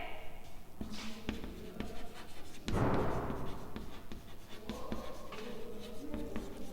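Chalk or marker scratching and tapping on a classroom board during a physics lecture, with short strokes and taps through the first seconds and a louder rubbing burst near the middle, no speech.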